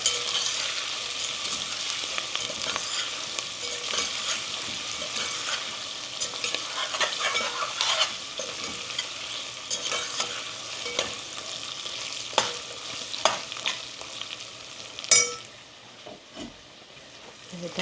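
A spoon stirs kadhi in a pan after salt is added, giving a continuous close sizzle with scraping strokes and a few louder scrapes near the end.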